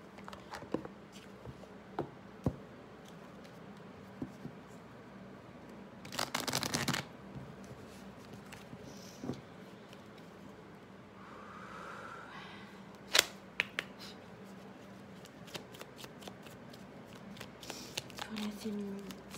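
Oracle cards are handled and shuffled close by, with scattered soft taps and one longer riffling burst partway through, all fairly quiet against a hushed room and occasional speech.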